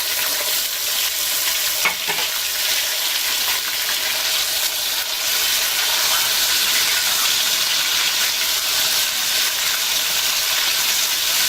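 Ginger garlic paste added to chicken sizzles loudly in a hot pan for balti gosht, a dense, steady frying hiss close up with a brief clink early on and no talking.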